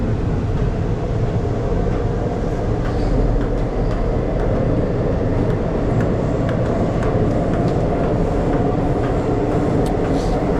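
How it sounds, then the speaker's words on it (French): Steady rumble and roar of a Seoul metro train heard from inside a moving carriage, continuous and loud throughout with faint clicks and rattles over the low drone, no talking. "en direct du métro de Séoul"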